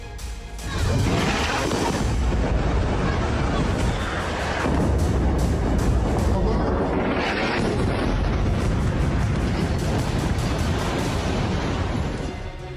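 Heavy booming blasts from Israeli air strikes on Beirut, loud and dense, with rolling rumbles and crashing impacts filling the whole stretch.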